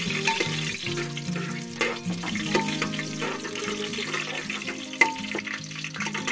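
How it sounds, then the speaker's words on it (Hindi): Whole spices sizzling in hot oil in a pressure cooker, with a steady crackling hiss and occasional clinks of a spoon against the pot, close by, under soft background music. "तेल गर्म हो गया है, मैं इसमें डालूंगी ये सारे खड़े गर्म मसाले।"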